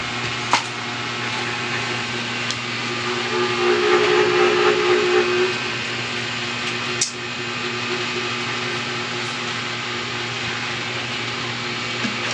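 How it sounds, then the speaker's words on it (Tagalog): A steady hiss of air rushing out of a subwoofer box port runs through the clip, with a low hum beneath it and a few brief clicks, continuous and fairly loud. "Ayan yung singaw ng hangin."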